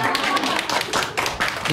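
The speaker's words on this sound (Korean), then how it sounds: "박수 한번 주십시오." An audience at an author talk with poet Kim Hae-ja and humanities scholar Kim Kyung-yoon claps in quick, uneven bursts while a voice speaks over the clapping.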